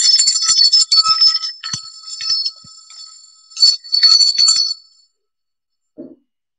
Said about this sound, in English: Debbie, what's going on with your phone?